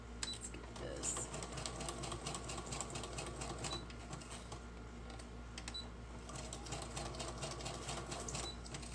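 A sewing machine stitches fabric for a junk journal, a steady rapid mechanical whir with fine repeating clicks running throughout, fairly quiet and close.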